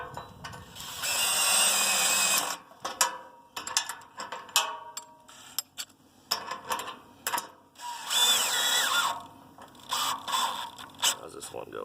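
Ratchet clicks and mechanical clanks from tightening clamps on a Wood-Mizer LX-25 sawmill during assembly, coming in irregular bursts with pauses between them, mixed with people talking nearby.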